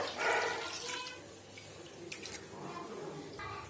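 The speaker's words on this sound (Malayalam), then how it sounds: "ഇനി ഇതിലേക്ക് 1 ലിറ്റർ പാല് ചേർത്ത് കൊടുക്കണ്ട്" Milk poured into an uruli, a traditional bell-metal pot, while making semiya payasam for an Onam sadhya: a soft, continuous liquid pour with light splashy texture, moderately near, with brief clinks and faint background noise.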